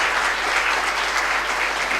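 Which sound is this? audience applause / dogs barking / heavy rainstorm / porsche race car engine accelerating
audience applause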